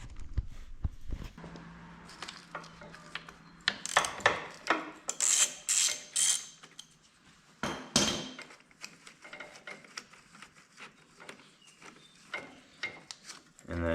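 Socket wrench on an extension working the positive battery terminal bolt of a Harley-Davidson M8 Softail, giving a series of close, sharp metallic clicks and ratcheting bursts in irregular clusters, with quieter handling noises between them.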